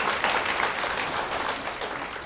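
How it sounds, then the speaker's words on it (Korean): A church congregation applauding, a dense steady wash of many hands clapping together that fills the room for a couple of seconds. "우리 하나님께 감사의 박수를 드리겠습니다"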